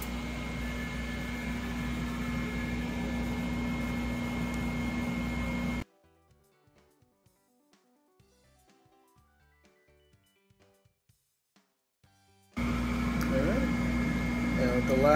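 A laser engraver with its exhaust fan running while engraving a 3.5 inch floppy disk, a steady broadband whir with a hum, loud and continuous at the start and end, dropping to near silence with faint ticks in the middle.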